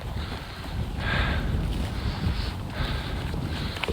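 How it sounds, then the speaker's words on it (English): Steady, heavy wind buffets the microphone outdoors, a continuous low roar with gusts swelling and fading. "I'm sorry if it's a bit windy."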